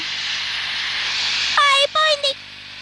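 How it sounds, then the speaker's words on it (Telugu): A cartoon fire goes out with a steady hissing wash lasting about a second and a half, then gives way to a high childlike voice speaking in short bursts. "అయిపోయింది, నిప్పు ఆరిపోయింది."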